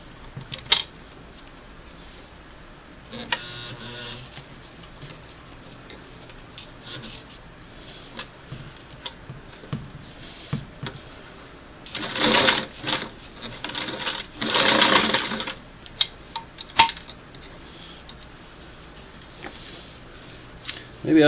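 A Singer Model 338 sewing machine running a single-needle straight stitch, with quiet slow stretches, then louder bursts of rapid mechanical whirring and clatter. Small handling clicks come between the runs.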